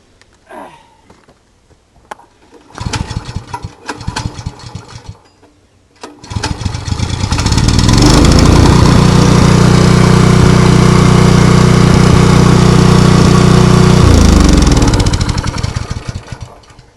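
A small engine set on choke is pulled a few times and then catches, running loud and close at a steady roar for several seconds before it shuts down.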